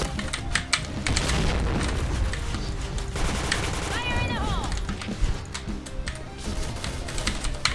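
Gunfire in the online shooter Point Blank during a bomb-mode match: sustained, loud volleys of rapid shots with booms and clattering, under excited talk from players.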